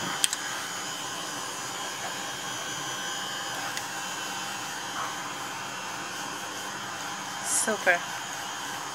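Heat embossing tool blowing steadily, a continuous close whoosh of hot air like a small hair dryer that runs the whole time, with a brief spoken word and faint handling sounds over it.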